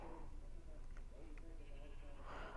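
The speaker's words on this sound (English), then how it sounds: "dang sheep." Sheep bleat in Minecraft, a few short faint cries over a steady background hum of game sound, with no talk during them.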